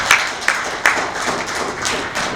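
Audience at an environmental policy symposium on ESG regulation clapping, with a few distinct sharp claps over a sparse, moderate applause.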